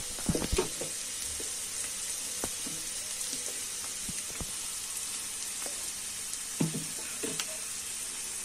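Mixed vegetables for noodles sizzle steadily on a high flame, a constant bright hiss broken by scattered clinks and scrapes of a spatula stirring the pan.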